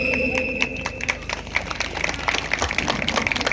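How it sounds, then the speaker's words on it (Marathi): A crowd applauds a palkhi dance troupe at the Karambele palkhi competition, brisk scattered clapping with sharp rhythmic hits and a high ringing tone running through it, fairly close and loud. "मी मागायच्या आधी तुम्ही टाळ्या वाजवल्यात"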